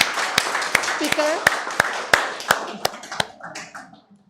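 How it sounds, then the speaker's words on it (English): Sparse, distinct claps from a small audience land one after another at an uneven pace, ringing close and sharp before thinning out at the end. "a big round of applause for our speaker"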